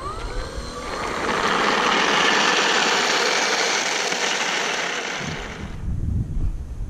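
Engine of a model ground effect vehicle running at about half throttle on a road, a loud buzzing drone that swells, holds steady for several seconds, then drops away to quieter rumble.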